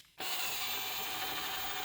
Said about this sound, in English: is stick a drill bit in the center.